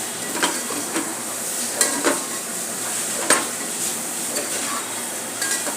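Chopped tomatoes fry in a pan for prawn biryani, a steady sizzle broken by a spoon stirring and scraping against the metal, close by with no talk.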